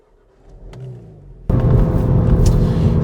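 A SEAT Leon Cupra 300 Estate starts off quiet with a faint low hum. Halfway through, a sudden loud engine roar and deep rumble from close by take over and hold steady as the car drives away.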